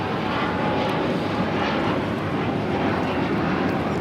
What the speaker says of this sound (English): This is Air Canada Express, flight 575, taking off to Vancouver on the CRJ 900LR